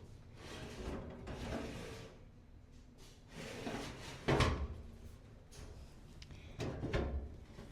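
Oven storage drawer sliding open and shut several times, rough scraping runs and a few thumping knocks as it moves, fairly close and moderately loud.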